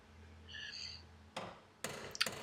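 Sharp metallic hammer strikes on a welded patch in a BMW E30 floor pan begin after a quiet hum, a few quick clangs close by, irregularly spaced.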